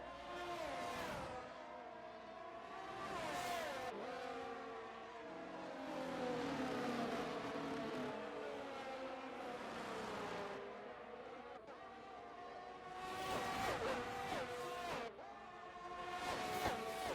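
Formula 1 cars in a racing video game at the Brazil round, engines whining and shifting pitch as they accelerate and pass, rising and falling in waves, loud throughout.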